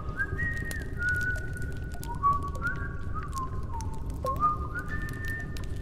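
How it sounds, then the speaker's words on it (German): Melodic whistling in the video game Indika, a series of rising and sliding tones repeated over several seconds above a low background rumble, with no talking. "Die pfeifen aber schön."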